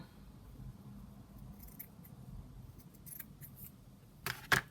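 Scissors cut paper for a junk journal, with a few faint snips that end in a couple of louder, crisp closing clicks over a quiet room.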